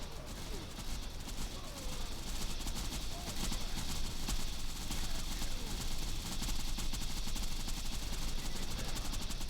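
Turret gunfire in Borderlands 2 with the Radiance mod for Axton, a dense, continuous stream of rapid shots that stays loud and unbroken throughout.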